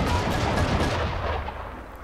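Cannon fire in the video game Assassin's Creed 3 booms in a dense, loud barrage of heavy blasts that roll together, then tail off toward the end, with no talking.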